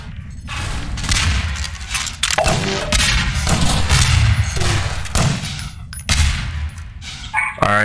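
Shotgun blasts ring out in a Half-Life 2 Deathmatch match, heavy bursts of gunfire repeating over loud, busy game action with steady low rumble.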